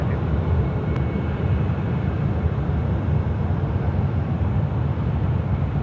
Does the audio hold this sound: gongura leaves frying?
no